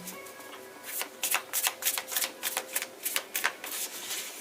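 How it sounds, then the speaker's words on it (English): A deck of cards is shuffled in a series of quick, crisp riffling bursts, close and fairly quiet, with no talking. "We're going to do 3 shuffles."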